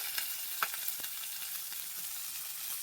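A whole net-caught fish frying in hot oil, a steady close sizzle with a few sharp pops and crackles scattered through it, no voices.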